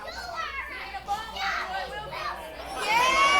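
Crowd at a CWF Mid-Atlantic independent wrestling show cheering a wrestler during a no-ropes Mid-Atlantic title match, a steady din of high-pitched shouts and yells that swells louder near the end.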